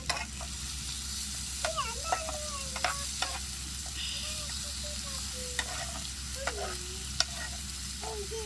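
Ghee sizzles faintly under pieces of masala-coated chicken in a pan for ghee podi chicken. A low, steady frying hiss runs throughout, broken by scattered light clinks of a spoon stirring.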